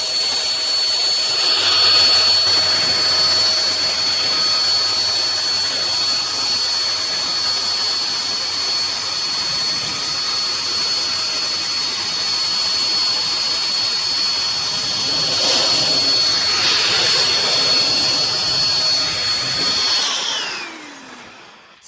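A Chemicalworkz car dryer blasting air over a car's painted panels, a loud continuous whooshing jet-like roar with a high whine that holds steady for about twenty seconds before cutting off.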